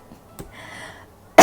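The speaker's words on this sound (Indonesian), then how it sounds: "Kan ketawa aja batuk" A woman gives a short laughing cough. A faint cough comes first, then a loud, abrupt burst at the end over quiet background.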